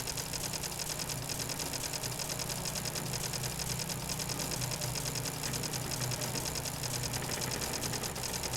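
Generator-like machines run steadily in the fantasy adventure game Anna's Quest, a constant mechanical drone with a fast, even rattle and no talking.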